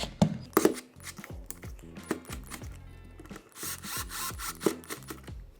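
A mini screwdriver fastens a cover on a Tesla Model Y yoke steering wheel, giving repeated close scraping and ratcheting turns in short uneven bursts with small pauses.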